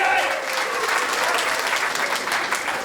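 A comedy show audience applauds and cheers for a local woman named Wendy, a dense, steady wash of clapping from a full room, loud and sustained.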